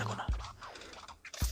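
A utility knife slices through packing tape on a boxed Superman Hot Wheels collectible, giving two short, close, scratchy cuts separated by a quiet pause.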